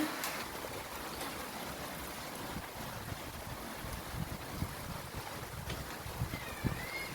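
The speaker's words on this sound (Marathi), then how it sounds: "हा पाऊस पडत आहे तर बघा" Rain falls during a thunderstorm as a steady, broadband patter and hiss, with wind rumbling against the microphone and scattered louder drops, continuous and fairly faint throughout.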